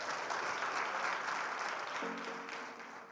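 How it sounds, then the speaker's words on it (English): Audience applause at a conference event, a steady sustained clapping from a large crowd that tapers slightly toward the end, with a brief voice surfacing near the close. "Please give that a round of applause."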